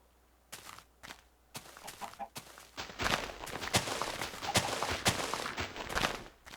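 A Minecraft chicken clucks amid blocky footsteps and game sounds, a few short clucks early giving way to louder, busier in-game activity near the end, with some talk.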